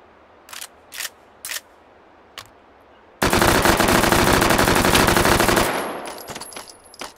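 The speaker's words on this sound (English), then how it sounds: "Yep, submachine gun." Submachine gun fire in the VR shooter H3VR: a few short isolated bursts, then one long loud continuous automatic burst lasting over two seconds that fades out, followed by faint clicks.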